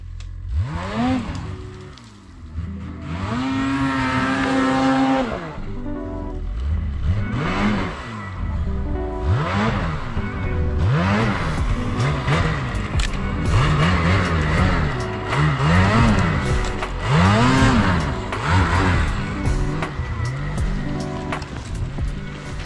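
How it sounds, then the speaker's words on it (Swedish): A forestry forwarder turning around on a woodland site, its diesel engine repeatedly revving up and dropping back in rising and falling surges, loud and close throughout, with no talk. "nu ska vi försöka vända skotern här då."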